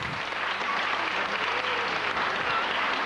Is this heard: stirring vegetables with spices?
no